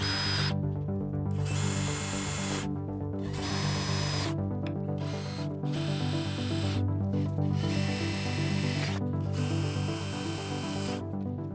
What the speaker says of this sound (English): I've got those all drilled and clecoed from the top down